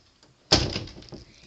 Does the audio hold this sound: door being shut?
yes